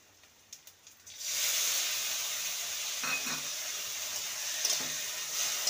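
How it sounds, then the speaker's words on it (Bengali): Boiled red lentils going into a pan of lightly fried onions, a bowl at a time, raising a steady loud hiss and sizzle after a few soft clinks at the start, close and continuous with no talk. "এবারে দিয়ে দেবো সেদ্ধ করা 1 বাটি মুসুর ডাল।"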